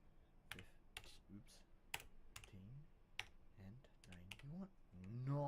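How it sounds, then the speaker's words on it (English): Uneven bursts of keystrokes on a computer keyboard, sharp clicks in clusters with short pauses between, close to the microphone, with faint voice sounds in the gaps. "Why am I typing like shit today?"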